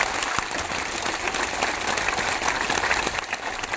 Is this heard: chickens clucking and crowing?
no